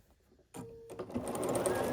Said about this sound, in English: work 2 rows at a time and start sewing these together